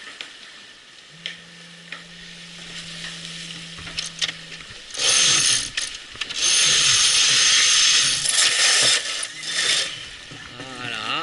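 A sailboat's autopilot motor turning the boat to jibe the mainsail: a steady mechanical whine, then clicking and ratcheting, followed by loud rushing bursts of wind and sail noise nearby.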